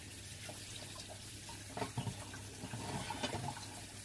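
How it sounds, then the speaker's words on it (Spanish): Hot tap water runs steadily into a cooking pot while a lentil stew is being made, a continuous close splashing flow with a few louder gurgles and no talking. "Vamos a ir aprovechando que está cayendo la agüita."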